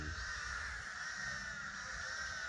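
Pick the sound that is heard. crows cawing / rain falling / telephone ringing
crows cawing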